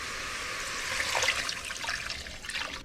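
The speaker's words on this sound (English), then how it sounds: "they change colors, we're gonna add water." Water pours into a cooking pot over cooked shrimp and garlic, a steady splashing, gurgling stream lasting a few seconds at close range with no talk.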